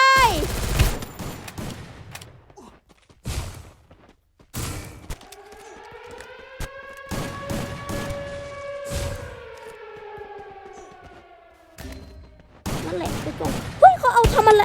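Rapid bursts of gunfire crackle in the video game Free Fire, with a rising and falling siren-like tone in the middle and a close player voice speaking between the shots.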